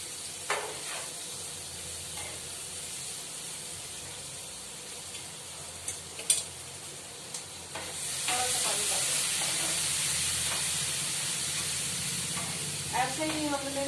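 Onions and tomatoes frying in a pan for homemade Amritsari chole kulche, a soft steady sizzle that grows louder and fuller partway through, with scattered clinks and stirring noises and a brief voice near the end.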